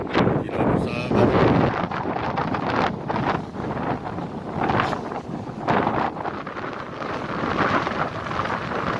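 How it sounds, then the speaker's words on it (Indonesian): Strong wind buffeting the microphone at sea amid big swells, a continuous loud roar with gusty surges and no clear voices. "Alunnya besar ya, angin besar juga ini."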